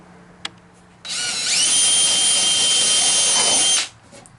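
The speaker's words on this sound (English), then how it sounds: "take a number 10 countersink with the bit where it goes all the way through the wood" A number 10 countersink bit bores through wood, its power drill whining loud and steady for nearly three seconds after a short spin-up, then cutting off abruptly; a small click comes just before.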